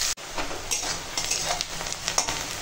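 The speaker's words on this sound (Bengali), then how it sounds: "পেঁয়াজটা একটু ভেজে নেব।" Chopped onions fry in oil in a wok, a continuous close sizzle with occasional stirring scrapes and clinks.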